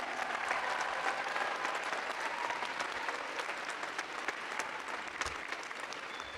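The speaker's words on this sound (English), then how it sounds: "a round of applause, please" A crowd at a university nursing graduation ceremony applauds steadily, a dense wash of clapping that holds at an even level throughout with no voices over it.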